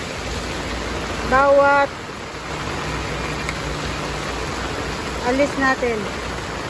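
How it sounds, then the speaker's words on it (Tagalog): Heavy rain pours during a signal no. 3 typhoon in Hong Kong near a market, a steady broadband hiss running throughout while a person talks over it. "kasi napakalakas talaga ng ulan"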